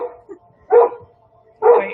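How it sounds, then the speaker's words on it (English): A pet dog barks excitedly at other dogs passing outside, two loud, close barks spaced about a second apart with quieter whines and yips in between, no talk. "My dog's really excited about some other dogs riding by on their bicycle."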